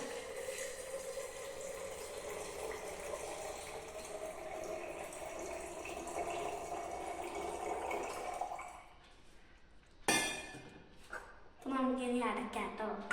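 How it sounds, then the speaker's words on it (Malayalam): Salted water poured over gooseberries in a jar: a steady, fairly loud pour and trickle running for several seconds, then a brief clink and splash, with a voice talking near the end. "ഉപ്പിട്ട വെള്ളം ഉപ്പ് കഴിഞ്ഞ് നമുക്ക് ഒഴിച്ച് കൊടുക്കാം"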